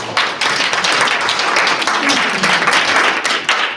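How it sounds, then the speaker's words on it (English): An audience at a school committee meeting bursts into loud, dense applause, a continuous wash of overlapping claps filling the room from start to finish. "give these guys a round of applause"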